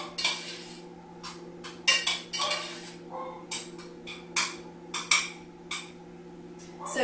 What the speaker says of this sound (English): Let's give them a quick stir